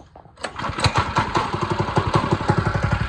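A small go-kart engine starts up and runs with a rapid, throbbing putter, loud and close, its steady pulses continuing after a brief sputtering catch.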